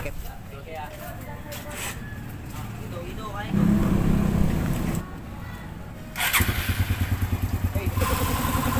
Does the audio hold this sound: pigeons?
no